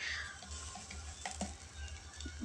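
An onion flatbread of two mixed flours roasts on a hot griddle, giving a soft sizzle with light scraping and stirring sounds and a sharp clatter at the end, no talking.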